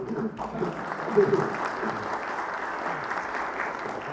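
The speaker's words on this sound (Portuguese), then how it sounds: "vamos aplaudir, né? Merece." Audience applause at a summit panel session, a continuous crowd of clapping at moderate level, somewhat distant, with faint voices mixed underneath.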